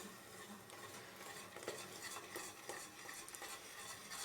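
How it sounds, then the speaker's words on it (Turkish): Flour batter for arabaşı being stirred into boiling water in a pot, a steady close scraping and swishing with soft watery bubbling throughout and a few light clinks of the spoon. "Şimdi kaynamış olduğu suyumuza karıştıraraktan ilave edeceğiz"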